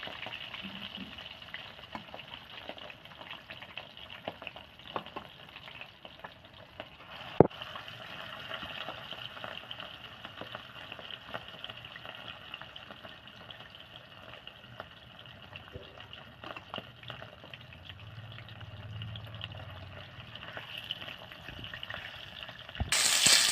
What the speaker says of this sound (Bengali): মাছটা ভাজা হয়ে গেছে মাছটাকে আবার তুলে নিচ্ছি